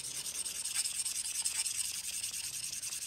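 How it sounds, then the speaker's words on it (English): A Dovo Barbarossa 5/8 straight razor is honed on a 1250 grit stone, giving a steady close scraping rub with faint rhythmic strokes and no voices. "Let's polish it off with the 1250, and then we will go for the transition to the finer stones."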